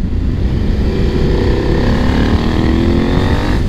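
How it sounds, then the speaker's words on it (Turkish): A KTM 890 SMT motorcycle with its lower exhaust collector removed idles loud and close, a steady rough, throaty engine rumble that holds for the whole stretch with no voices. "Şimdi bu motorun sahibi tahminen alt kolektörü sökmüş. O yüzden ses biraz daha vahşi çıkıyor."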